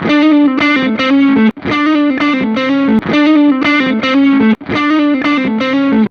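Crunchy electric guitar through Seymour Duncan and Maxon overdrive pedals, back to back, plays the same riff in a few loud repeated passes, each separated by a short gap.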